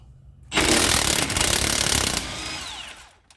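An impact wrench hammers an 18 mm Kobalt non-impact socket during a rear shock and sway bar install on a Foxbody Mustang, a loud rattling burst of about two seconds that then tapers off.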